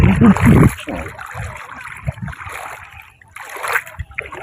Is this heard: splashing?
yes